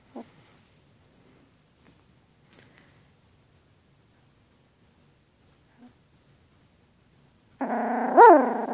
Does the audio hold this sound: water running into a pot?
no